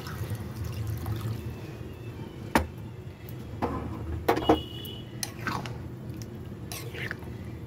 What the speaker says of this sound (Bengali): এবার আমি জল দিয়ে দেবো। জল দিয়ে দিচ্ছি।